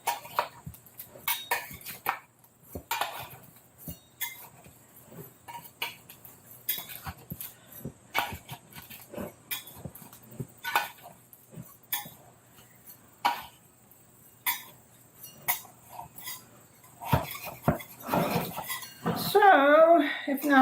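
A metal utensil loosens the edges of a pizza baked in a metal Bundt pan, giving scattered light clinks and scrapes of metal on metal at close range, with a voice talking over them.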